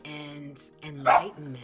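Someone speaks calmly while a dog barks once, sharp and fairly close, cutting over his voice partway through.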